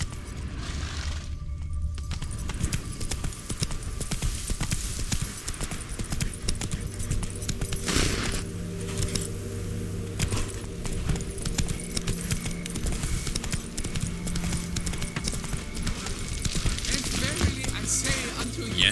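Roach, the horse in The Witcher 3, trots with steady clip-clopping hooves throughout, moderately loud and continuous against a soft ambient background with no talk.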